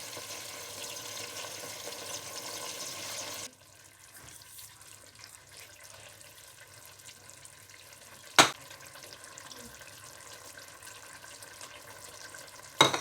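Spices frying in a pan for a dhaba-style gobi pulao, a steady close sizzle that drops to a quieter crackle after a few seconds, with a couple of sharp clinks of a spoon against the pan.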